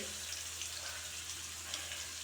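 A steady, even sizzle of onions and curry leaves frying in a pan, soft hiss spread high and constant with a low hum underneath, no voices.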